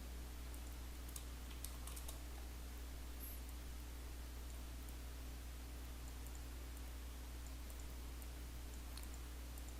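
Quiet, scattered keystrokes of a nickname being typed on a computer keyboard, soft clicks tapping in small bursts over a steady low electrical hum, with no speech.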